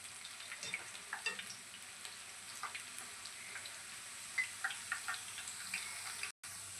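Onion pakoda deep-frying in hot oil as the bubbling dies down, a soft steady fizz with faint scattered pops and light ticks, fairly quiet throughout with a brief dropout near the end.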